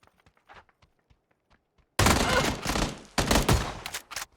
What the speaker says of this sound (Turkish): Oğlum bu silah nasıl o kadar hızlı sıkabiliyor ya?